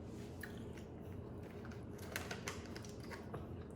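Someone chews a chewy Mexican antojito close to the mic, making soft, faint, repeated squishy bites and mouth sounds with no talking.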